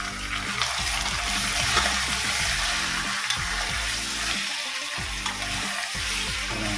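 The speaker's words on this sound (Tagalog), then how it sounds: "Haluin lang natin." Chicken wing adobo sizzling and frying in a pan, a loud continuous hiss broken by repeated scraping stir strokes throughout, with no talking.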